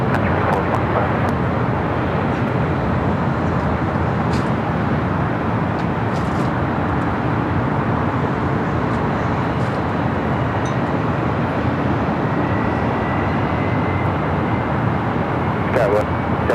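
A heavy Airbus A350 jet airliner departs LAX, its engines a loud, continuous roar that holds steady across the whole stretch without letting up.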